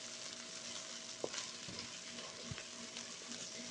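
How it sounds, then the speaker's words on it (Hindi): Onions with a tablespoon of garlic-ginger paste fry in a pan, giving a quiet, steady sizzle with a few sharp clinks and scrapes of stirring, no voices. "तब हमने लहसुन अदरक का पेस्ट जो है वो 1 टेबल स्पून इसके अंदर डाल के उसको भी फ्राई कर लेंगे।"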